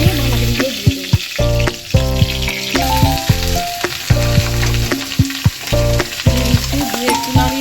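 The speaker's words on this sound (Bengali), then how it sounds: "দিয়ে করবো বাঁধাকপি আলুর ভাজা, তার জন্য তেলের উপর দিয়ে দিয়েছি পাঁচফোড়ন, দুটো শুকনো লঙ্কা আর একটা তেজপাতা" Cabbage fries in hot oil with five-spice, two dried chillies and a bay leaf for a cabbage-potato dish, a steady close sizzle running under loud background music.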